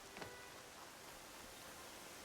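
Steady, even rain falls in the video game Horizon Zero Dawn around the Nora settlements, a soft continuous hiss of drops with no talk over it.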